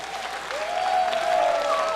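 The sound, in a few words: audience applause at a concert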